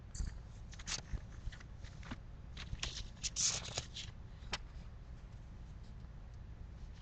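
Paper note cards are handled quietly, giving a few soft, scattered rustles and light flicks over a low background hum, with no one talking.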